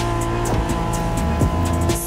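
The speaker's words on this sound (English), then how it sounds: "Are you familiar with the Honda you're driving?" A 1992 Honda NSX races in The Crew Motorfest, its engine roaring loud and close and climbing steadily in pitch through quick gear shifts.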